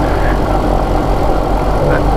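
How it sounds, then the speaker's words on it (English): Diamond DA42 Twinstar aircraft engine idling after landing, a loud, steady, broadband drone with a low rumble and no break. "because we still have the engine running"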